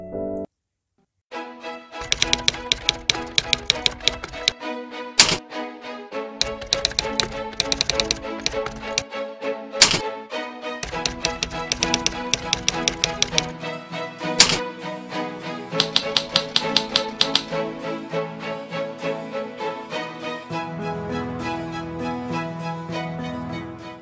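Typewriter sound effect from a PowerPoint 2016 text animation: continuous rapid key clacks with brief pauses and occasional sharper carriage-like strikes, loud and close, with music or tones underneath and no speech.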